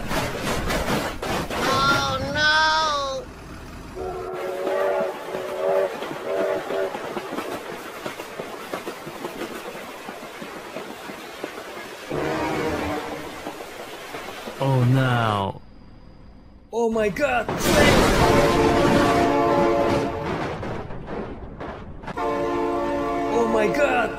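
A train horn blows amid rumbling rail noise in a toy-car race setting with Thomas-style trains, sounding in several loud tonal blasts that come and go while someone exclaims excitedly.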